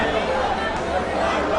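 A sizable stadium crowd at a county sports meet, Montserrado against Bomi, makes a steady murmur of chatter that runs continuously under a nearby speaking voice.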